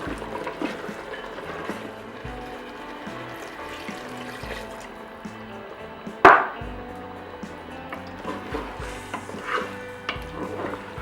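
Chicken mafé gets stirred in a Moulinex Cookeo multicooker, soft scraping and liquid movement under quiet background, with one sharp clack of a utensil against the pot near the middle.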